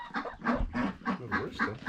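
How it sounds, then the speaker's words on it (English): Chicken on a farm clucking close up in a quick series of short, rhythmic calls, fairly faint, with no talking. "Well, isn't a rooster still a chicken?"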